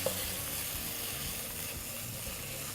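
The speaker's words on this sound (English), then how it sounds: "just mix this up there so that the onions get all the flavour of that paste" Onions being stirred into a citrus chili pesto paste in a pan, giving a steady close sizzle that runs unbroken from start to finish with no talk.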